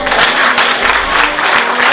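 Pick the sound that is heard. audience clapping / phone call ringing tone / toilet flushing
audience clapping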